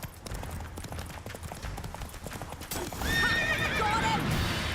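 In The Witcher 3 video game, the horse Roach gallops with rapid, close hoofbeats, then breaks into a loud, drawn-out whinny over the last two seconds.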